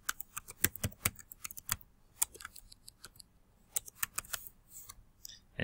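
Someone taps out a wrong password on a computer keyboard, producing a quiet series of irregular, close clicks and clacks with short pauses between bursts.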